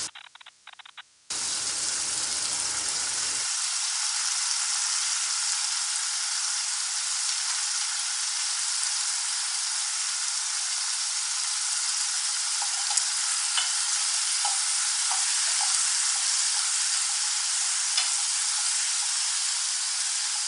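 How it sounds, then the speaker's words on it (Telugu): Tomato pieces dropped into onions already frying in a pan set off a sudden loud, steady hiss of sizzling oil that runs on without a break, close and unaccompanied by speech. "ఇప్పుడు టొమాటో ముక్కలు వేసుకుంటాం."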